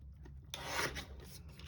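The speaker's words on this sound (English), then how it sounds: "I am gonna just trim it down just a smidge on this one." A photo is trimmed for a mixed-media project: one short, close, raspy cut that scrapes across the paper for about a second after a quiet start.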